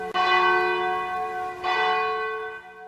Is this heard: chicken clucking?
no